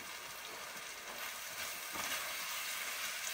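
Onions frying alongside hamburger meat in a pan give a steady, dense broadband sizzle, continuous and fairly close throughout with no talking.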